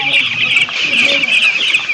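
Chickens at a poultry farm cluck and squawk continuously, a dense, close chorus of overlapping calls with a faint voice in the background.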